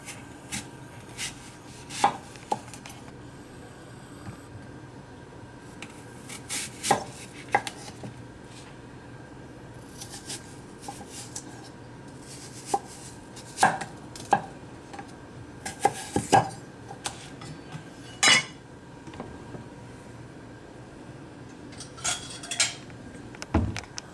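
A Kamikoto Kanpeki knife chops through an apple on a board, producing a series of crisp, separate knife strikes in irregular bursts, with some louder thuds close by and no talking.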